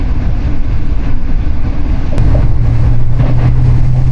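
Train on the Lao-China railway near Vang Vieng, a loud continuous rumble and rush with a low steady drone rising toward the end, heard close with no talk.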